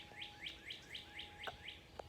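Outdoor birdsong that includes a blue jay: a quick, evenly spaced run of about seven bright chirps over a faint steady tone, ending in a couple of sharper, closer notes.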